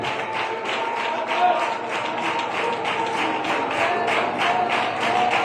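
A congregation at a New Year church service applauds together in a continuous, dense wash of clapping that holds steady for several seconds, fairly loud and close throughout.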